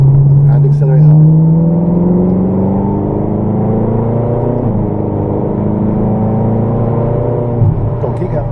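A supercar accelerates hard out of a corner at Rockingham, the engine revving loud and close in rising harmonic sweeps that dip briefly and climb again, with faint brief sounds near the start.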